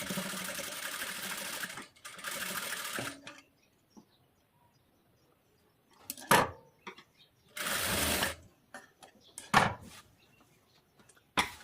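A sewing machine stitches the back panel of a blouse in several separate bursts of whirring, with quiet pauses and small handling clicks between runs.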